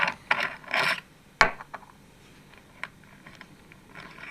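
A Venturi airbrush has its handle unscrewed, making close, dry ratcheting clicks and small mechanical rubbing noises, with a few sharp ticks and short gaps between them.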